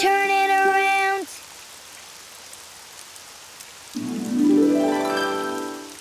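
Rain falls outside in an animated children's show, a soft, steady patter that sits between bright melodic tones at the start and end.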